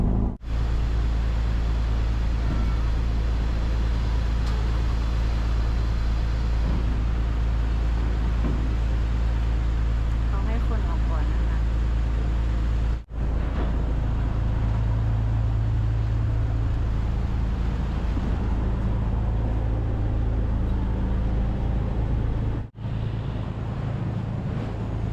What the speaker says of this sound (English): the third one is to listen to this really loud engine